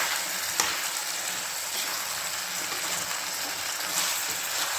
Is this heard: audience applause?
no